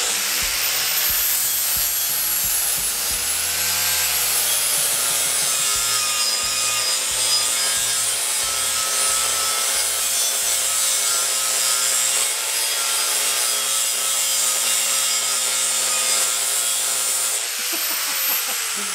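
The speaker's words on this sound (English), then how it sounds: "it seems to be powering the grinder just fine" An angle grinder powered by a portable power station grinds square steel tubing, giving a loud, steady high-pitched abrasive whine with shifting tone as pressure changes, close and continuous.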